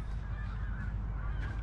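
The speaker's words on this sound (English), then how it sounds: "A load of geese flying over." Faint goose honks from a flock passing at a distance over north Nottinghamshire countryside, brief calls over a low steady background rumble.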